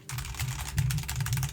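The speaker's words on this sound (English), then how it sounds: "I wanna show you guys the raw sound that it produces when you're typing" Typing on a computer keyboard, raw and unfiltered, heard as a steady flurry of close, rapid clicks and key strikes with no talk over it.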